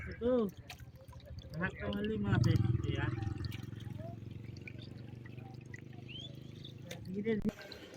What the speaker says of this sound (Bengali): এই যে মোটরে পানি উঠতেছে আর এই যে মাছ দেখেন